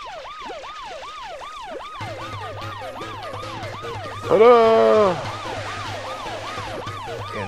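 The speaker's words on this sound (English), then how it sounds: "Hey, you tired of that siren yet?" A looping wailing siren from the Paper Mario: The Thousand-Year Door video game rises and falls steadily over a low game hum, briefly overlapped by a cheerful spoken exclamation and a short jingle midway.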